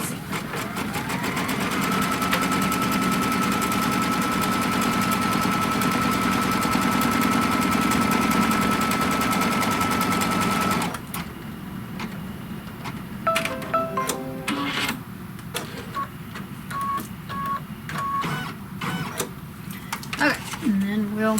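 A sewing machine stitches a quilt border seam in a fast, steady mechanical whir lasting about ten seconds, then stops, leaving quieter handling clicks and a speaking voice.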